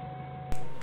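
A forklift's steady, low engine drone hums at moderate distance in a narrow alley while moving woodworking machinery, then a sudden clunk cuts in as the motor keeps running.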